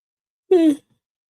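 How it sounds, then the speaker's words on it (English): A person gives a single short, voiced yawn, a drawn-out groaning exhale lasting under half a second, close and alone in otherwise quiet surroundings. "Excuse my yawn."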